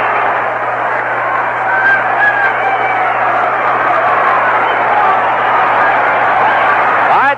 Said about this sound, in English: This crowd going wild again